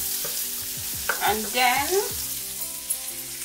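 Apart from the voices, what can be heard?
butter melting and sizzling in a hot pot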